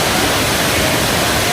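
Waterfall running high after heavy rain gives a loud, steady, close rushing roar of falling water with no breaks.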